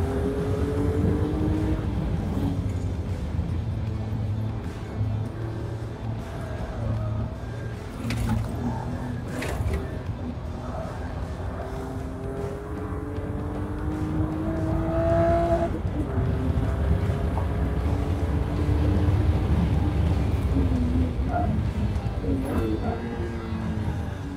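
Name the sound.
car engine while driving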